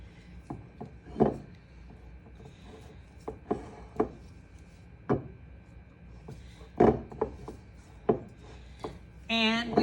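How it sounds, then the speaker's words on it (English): A spatula scrapes the sides of a mixing bowl of chocolate chip cookie dough in short, irregular strokes, a series of close scuffing swipes and light knocks with pauses between. "we're going to scrape the sides of the bowl"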